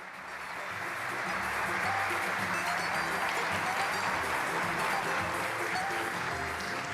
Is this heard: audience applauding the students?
yes